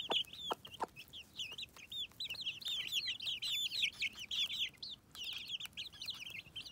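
Several free-range hens cluck steadily in quick, busy bursts while feeding on bread, close by, with soft chirpy notes mixed in against a faint outdoor background.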